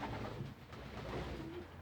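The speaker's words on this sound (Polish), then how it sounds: "I tu jesteśmy już w gołębniku rozpłodowym." Pigeons in a breeding loft with young birds coo softly and repeatedly, faint and close, with low murmuring calls and no talk.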